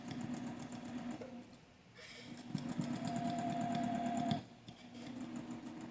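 Sewing machine over-stitching a seam in quilt piecing: a steady, close mechanical whir and rapid needle clatter that pauses briefly, resumes, then stops.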